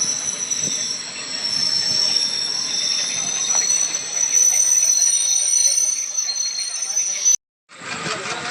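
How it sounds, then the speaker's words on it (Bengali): Train 15767 from Siliguri to Alipurduar pulls out of Keron station at night, wheels squealing loudly in a long sustained screech over rolling rumble, cut off briefly near the end. "আমাদের ট্রেন ছেড়ে দিচ্ছে এখন কেরন স্টেশন থেকে"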